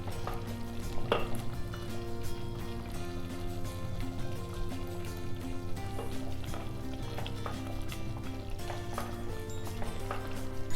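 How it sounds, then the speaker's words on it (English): Tomato puree splutters and sizzles steadily in a stock pot for Nellore fish curry while being stirred, with occasional spoon clicks over a low constant hum. "You got to be careful because the tomato puree starts spluttering."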